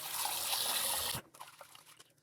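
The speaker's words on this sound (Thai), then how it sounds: "ล้างประมาณ น้ำสองน้ำแล้วเนาะ ล้างเอาฟุ้นเปื่อนมันออกเนาะ" Sticky rice, black rice meant for a dessert, is rinsed in water with a steady trickle and pour of liquid for about a second, then softer intermittent splashes and drips as the grains are swirled.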